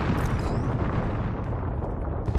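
Artillery strike explosions in Apex Legends, heard as a continuous dense rumbling barrage of booms that stays loud and steady throughout, with no voices.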